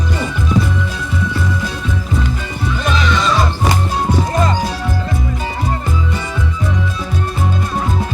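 A horse being broken in at a ranch on the Apure plains, loud and close: rhythmic heavy hoof thuds run throughout while repeated neighs and whinnies ring out over the pounding.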